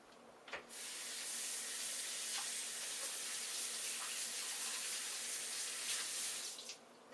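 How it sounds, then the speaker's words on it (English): A kitchen tap runs steadily as hands are rinsed under it, a continuous close splashing hiss that starts abruptly after a brief knock and cuts off near the end, with no voices. "Let me rinse out my hands."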